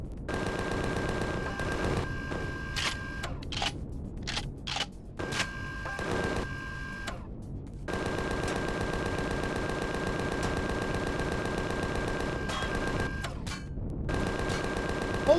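Sustained gunfire against a tough turret in Empyrion Galactic Survival, long rattling bursts of automatic fire broken by a few short gaps and single shots, loud and close with a droning tone underneath.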